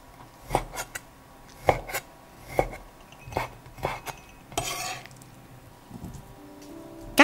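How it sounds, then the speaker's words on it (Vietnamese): Knife dicing boiled pork fat into small cubes on a cutting board for Vietnamese grilled pork rolls, a series of sharp separate chops spaced about a second apart, close and fairly quiet, with a brief scraping sweep near the end. "Các bạn cắt hạt lựu nhỏ như thế này nè các bạn."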